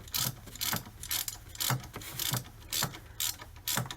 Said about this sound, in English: Now I'm going to go ahead and tighten up the other bolts.